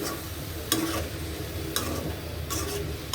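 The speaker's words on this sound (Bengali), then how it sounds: "এখন এটা ভালোভাবে কষাবো।" Dried fish curry (shutki) being stir-fried in a pan with a splash of hot water, a steady low sizzle broken by a few brief scraping strokes of the spoon, close and moderately loud.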